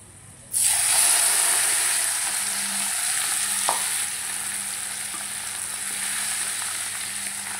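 Hot oil sizzles loudly as tempering goes into tomato and fenugreek-leaf pickle, starting abruptly and continuing as a steady crackling hiss, with a faint low hum underneath.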